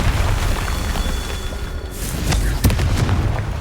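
The Confringo fire spell from Hogwarts Legacy lands as a loud booming blast with sharp cracks, over a dense rumbling game background.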